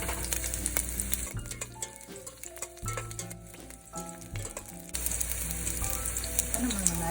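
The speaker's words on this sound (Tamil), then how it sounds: "எண்ணெய் கொஞ்சம் சூடானோன்னா சின்ன வெங்காயத்தை வச்சு சேர்த்துக்கோங்க." Steady crackling sizzle of shallots frying in hot coconut oil, loud and close, with occasional clinks of a utensil stirring the pan.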